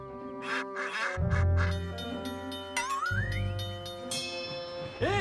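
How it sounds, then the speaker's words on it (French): Cartoon ducks quack in a loud, close burst among bright jingly cartoon music and chimes, with a rising whistle-like tone partway through in a Thomas and Friends scene. "Bougez-vous les plumes, les canards."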